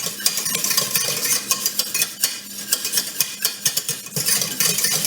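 A spoon stirs béchamel sauce in a pot, scraping and clinking against the metal in uneven strokes with a soft sizzle beneath, close and fairly loud, with no talking.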